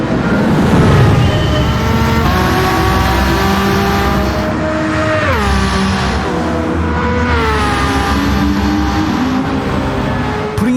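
Fully built Nissan R32 Skyline race car in Gran Turismo 7, engine revving hard and climbing through gears with shifts and pitch swings, loud and sustained with tire noise and no talking.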